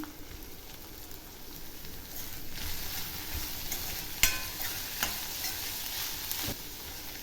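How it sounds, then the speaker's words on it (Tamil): Chopped small onions sautéing in a pan, a soft continuous sizzle with occasional stirring scrapes and a few sharper clinks, fairly quiet and close, with no talking. "வெங்காயத்தோட பச்சை வாசனை போகிற வரைக்கும் நல்லா வதக்கி விட்டுக்கலாம்"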